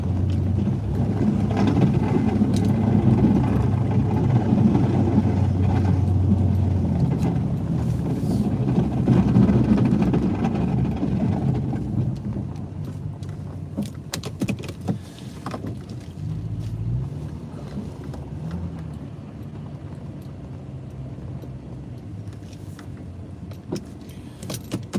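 A plow truck pushes heavy, wet snow, a loud low engine drone with scraping that runs for half the stretch, then eases off into rattles, clunks and jangles from the cab.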